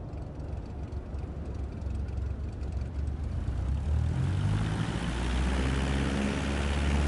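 Airplane engine in Microsoft Flight Simulator 2024 spooling up on the runway at full throttle, a steady broadband roar that grows louder partway through, with a rising engine tone layered over it.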